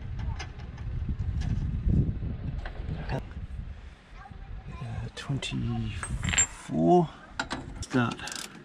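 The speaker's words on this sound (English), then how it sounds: "So we're gonna just try to see if we can get that thread started." Metal clicks and scraping from threading a nut onto a U-bolt holding a caravan leaf spring, close and intermittent, with someone talking over parts of it.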